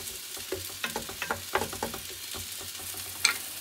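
Onions frying gently in oil in a pan, heard as a quiet, low sizzle broken by scattered light clinks and scrapes of stirring, with one sharper tap near the end.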